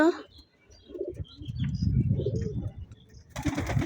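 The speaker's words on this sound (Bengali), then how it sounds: "দেখো এখানে বিভিন্ন রকমের পায়রা আছে" Pigeons of several kinds, including a white one, give soft, low cooing calls in a few short bursts, with a voice faintly audible in the background.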